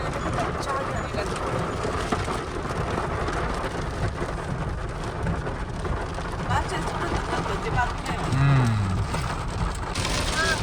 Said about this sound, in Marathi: असला तुफान पाऊस चालू झालाय.